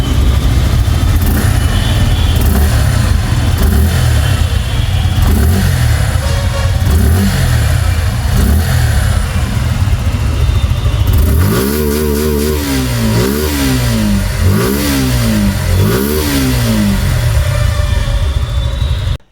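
A Suzuki Gixxer SF 150 motorcycle with a chrome-finished double-barrel exhaust idles steadily, then revs repeatedly in four or five sharp rising bursts, loud and close, with no voices.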